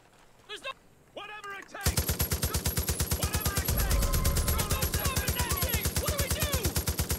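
Sustained rapid automatic gunfire from Far Cry 5 erupts after brief voices and then runs loud and steady with an even, rattling rhythm while a vehicle is being driven, with voices still heard over it.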